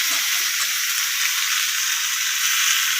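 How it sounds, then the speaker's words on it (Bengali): Chillies fry in hot oil in a small wok for Korean-style spicy chicken, a loud, continuous hissing sizzle, close and steady with no talk. "এবার ওই ছোটো কড়াইটার মধ্যে নামিয়ে নিয়ে লঙ্কাগুলো দিলাম তেলের মধ্যে"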